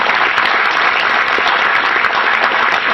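Seminar audience in a hall claps continuously, a loud, dense wash of applause sustained for a few seconds without speech.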